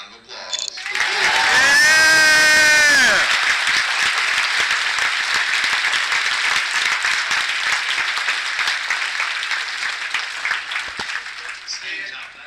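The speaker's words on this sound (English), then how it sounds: "Round of applause." Audience at a comic convention panel breaks into a loud round of applause with cheering, peaking early then sustaining as steady dense clapping before tapering off.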